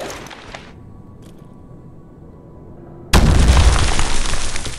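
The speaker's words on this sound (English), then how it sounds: "Maybe that sounds like a Call of Duty grenade blowing up?" A grenade detonates in Fallout 4 with the MW SFX Pack mod, a sudden loud close blast that cuts in after a quiet stretch and sustains a dense rumbling roar to the end.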